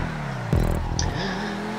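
Progen T20 supercar engine in GTA Online, a steady close engine drone with a brief rise in pitch as the car revs and then settles again, with no voices.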